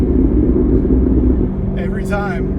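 Corvette C7 ZR1 engine idling with a steady low rumble throughout, while someone talks over it in the latter half.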